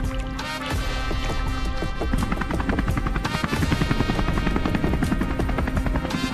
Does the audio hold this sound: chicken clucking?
no